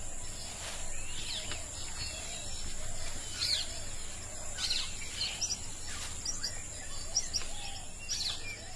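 Endemic forest birds of Sri Lanka's cloud forest call repeatedly in short high chirps and whistles over a steady hiss of insects, a dense natural chorus with no talking.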